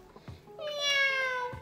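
A cat meow imitated by a voice during a children's story, one drawn-out, close, rising and falling mew lasting about a second, set between a few soft knocks.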